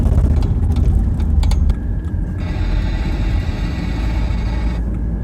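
A BMW 320d heard from inside the cabin while accelerating: a constant low engine and road rumble, with a faint, steady, buzzing rattle from the center console that persists for several seconds, no talking.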